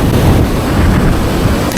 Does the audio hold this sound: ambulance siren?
no